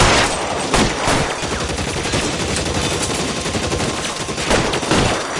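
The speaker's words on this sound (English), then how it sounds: "I'll lay down this suppression fire." Dense, sustained suppression gunfire from a video game set in 1940s Los Angeles, loud and continuous with overlapping rapid shots throughout and no talking.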